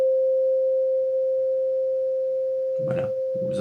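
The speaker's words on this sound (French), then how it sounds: "Ben, le diapason, du coup, le bruit, vous allez l'entendre longtemps." A struck tuning fork rings with a steady pure tone that holds evenly for several seconds, close and clear, while a voice begins speaking over it near the end.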